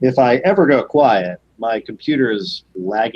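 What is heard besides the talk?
None of the usual background noises is heard.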